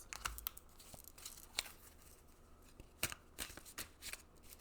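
Tarot cards shuffled by hand in a quiet room, a series of crisp riffling bursts and soft slaps at uneven intervals, close and fairly faint.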